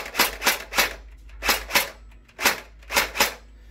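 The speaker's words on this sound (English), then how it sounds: "I'll do a couple shots." An Ares Tavor-21 (TAR-21) gel blaster fires eight sharp, close single shots in a quick, fairly even rhythm, each a crisp snapping crack with a brief mechanical tail.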